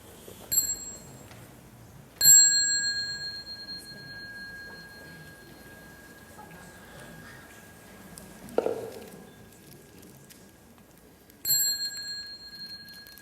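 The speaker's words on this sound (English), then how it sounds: "when you hear the small bell, stand up and go out" A small bell rings clearly several times during meditation practice, with long, pure tones that hang and fade, separated by pauses, over a quiet room with soft background rustle.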